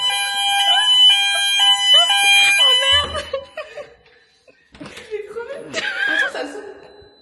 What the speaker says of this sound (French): T'as dit test des alarmes.